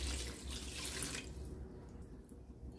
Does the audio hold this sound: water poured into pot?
yes